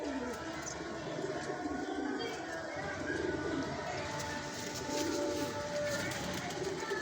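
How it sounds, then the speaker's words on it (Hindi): Sialkoti pigeons, a breeder's birds kept in a populated area, coo and call steadily at close range, with a voice talking over them and faint background noise throughout. "ये इनका सियालकोटी कबूतर है।"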